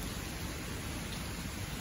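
Heavy morning rain falling outside a window, a steady dense broadband hiss that stays fairly even and close throughout, with no voices.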